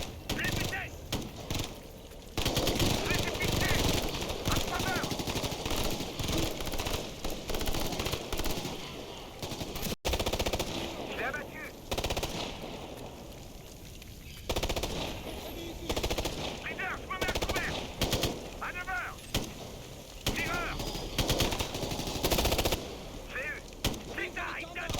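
Automatic and single-shot gunfire from Tom Clancy's Ghost Recon Future Soldier, dense bursts and rattling volleys running almost continuously, with speech mixed in.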